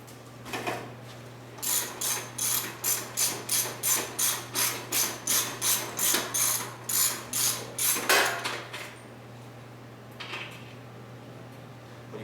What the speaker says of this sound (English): Then we're going to use our 7/8 deep well socket